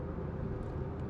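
Continuous low road roar from the tyres heard from inside a Maruti Suzuki Fronx on the move, an even broadband hum with a faint hiss riding on top and no talking.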